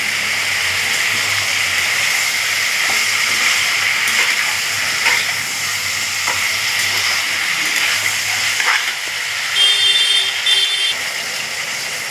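Whole green chillies sizzle and hiss in hot oil in a pan for a bottle gourd and prawn curry, a steady, loud frying hiss with faint clinks near the end.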